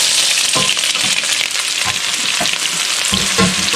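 Yellow onion sizzling in olive oil in a pan, a steady loud fry with stirring scrapes and a few clinks of the utensil, no voices.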